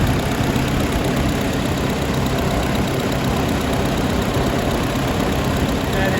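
A Ford 8N tractor engine with a suspected blown head gasket runs steadily nearby, a loud, even, continuous mechanical drone without pauses or speech.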